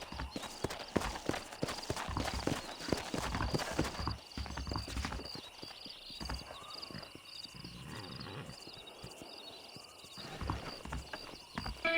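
Horse hooves clip-clop steadily on the ground in the Western video game Red Dead Redemption. The rhythmic footfalls run throughout, fairly close, with faint ambient background and no talk.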